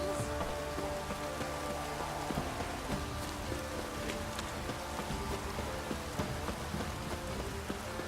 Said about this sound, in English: This downpour's up.